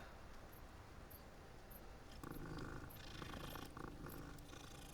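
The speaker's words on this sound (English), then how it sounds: "Oh, it's a cat." A cat purrs in the Hogwarts Legacy video game, a soft steady rumble that turns louder and busier halfway through as other game sounds join it.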